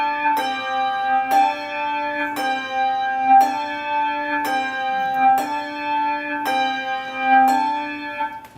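A bell rings repeatedly in a steady rhythm, roughly once a second, each strike bright and resonant with a long ringing tone that overlaps the next.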